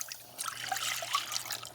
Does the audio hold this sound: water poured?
yes